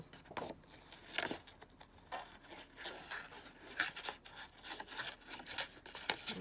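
Scissors snip through paper to cut out a small purple paper flower, with a series of close, quiet cuts and rustles spread across several seconds.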